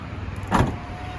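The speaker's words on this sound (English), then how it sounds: "here's the button to close the tailgate of the car, so let's close it." The powered tailgate of a 2021 MG Gloster SUV closes: a steady electric motor whir, then a short thud as the hatch shuts, close and clear.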